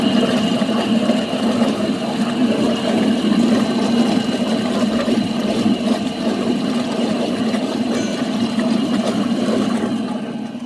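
A 20L vacuum emulsifying mixer with water and oil tanks running its dispersing function, giving a steady, continuous motor drone with a low hum and a watery churning texture, unchanging throughout.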